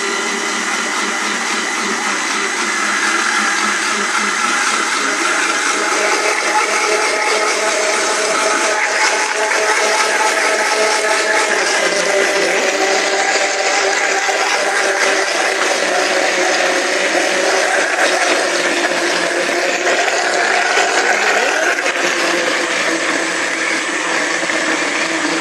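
An electric blender runs steadily and loudly, whirring through a mix of seasoning with onion and oil meant for chicken and red meat, a continuous dense motor-and-blade roar with no pauses.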